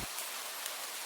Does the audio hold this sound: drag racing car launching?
no